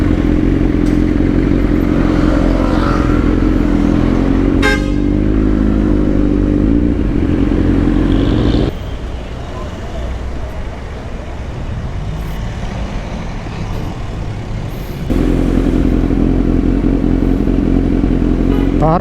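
A Kawasaki Z900 big bike with a weak battery struggles to start, its loud, close engine droning with some clatter. The sound drops away for several seconds, then returns just as strongly.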